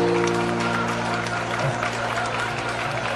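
Crowd applause at a school annual function, dense steady clapping from an audience for a few seconds, with a low steady hum running underneath.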